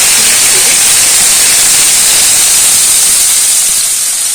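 Chopped onions sizzling in hot mustard oil in a kadai with bay leaves for chhole, a loud, steady, dense hiss running without a break throughout.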